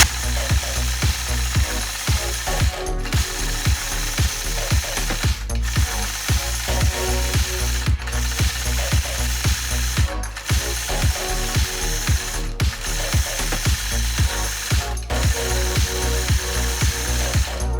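A sewing machine quilts a scalloped border along a Sway ruler, its needle hammering out a fast steady mechanical rhythm up close, with brief pauses every couple of seconds as the fabric is repositioned.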